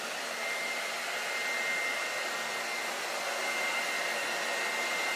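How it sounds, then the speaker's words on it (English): A handheld blow dryer runs at a salon while hair is dried during a classic bob haircut, a steady, even whooshing hum that continues unchanged and close by, with no talking. "I just let the blow dryer sit in my hand."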